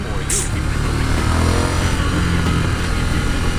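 A Ducati Scrambler motorcycle engine running steadily at close range while riding, a continuous low rumbling drone without pause.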